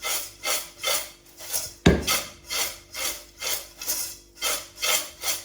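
Ingredients rattling inside a mixer jar as it is shaken by hand, a steady rhythm of about eight rasping, scraping bursts at roughly two per second, close and alone.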